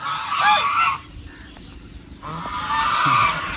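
Two bursts of noisy, overlapping duck quacks close by at a dam, separated by a short quiet gap.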